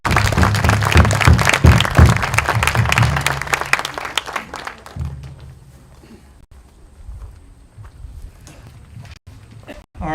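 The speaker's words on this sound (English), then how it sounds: "A nice round of applause for everybody here." A crowd at a YMCA alumni service project celebration and dedication claps loudly for about five seconds, then the applause fades to a sparse, quieter patter with room noise.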